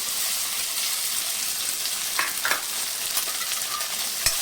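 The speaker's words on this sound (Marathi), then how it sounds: "आता याच्यामध्ये एक चमचा जिरं टाकायचं आहे त्यानंतर या बटाट्याच्या फोडी आहेत त्या टाकून घ्यायच्या" Potato pieces fry with cumin in oil in a wok, giving a steady close sizzle with occasional stirring scrapes and no talking.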